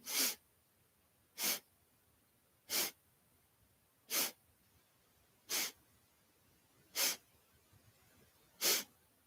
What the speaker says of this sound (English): And again, sniffing in.